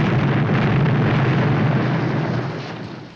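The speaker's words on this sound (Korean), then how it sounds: "과연 크레이그 소령의 계획답게 지뢰는 연쇄 폭발을 하게 되죠" Buried land mines go off in a chain in a war film set in a desert, a loud, sustained roaring blast that fills the whole clip, then begins to fade.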